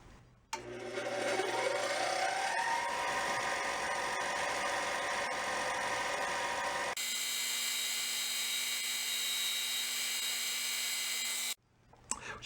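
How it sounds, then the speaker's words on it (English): A bench wire wheel grinds baked-on rust off a part from an old Lincoln welder, a loud sustained whine with a steady hum that shifts pitch partway through as the part is pressed against it, then spins down abruptly. "I'm going to go take that on the wire wheel. I'm going to get rid of all that baked on rust there."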